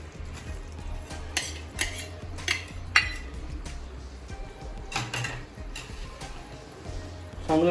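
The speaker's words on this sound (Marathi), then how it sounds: "चांगलं मिक्स करून घ्यायचं." A spoon stirs and mixes Malvani patolya filling with coconut in a pan, giving repeated scraping and clinking strokes at close range amid a faint background hum, with no talking.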